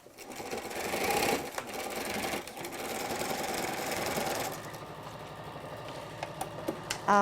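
A foot-pedal sewing machine stitches fabric in a steady whirring run for several seconds, then slows and stops, leaving a few light clicks close by.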